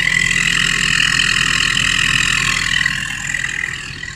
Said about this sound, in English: you hear the chirping. That's it at idle.